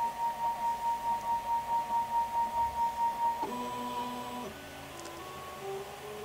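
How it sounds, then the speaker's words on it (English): An Eaglemoss Vector 3 3D printer printing its first layer hums with a pulsing, rhythmic whine, then its stepper motors shift to a series of changing electronic tones as the print head moves. "as you can see, is the print head moving itself up. This is going to be so loud."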